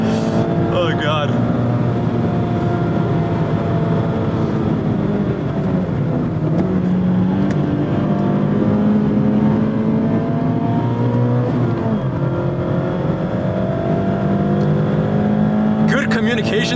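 A 2024 Mazda MX-5 Miata Club ND3 with manual transmission and Brembo brakes is driven hard on a race track, its engine droning loudly and steadily with rising and falling revs, heard from inside the cabin with occasional talk over it.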